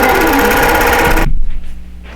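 A sewing machine stitches jump stitches and transitions across a quilt block, its loud, rapid mechanical chatter running steadily before cutting off abruptly, leaving a faint low hum and light handling noises.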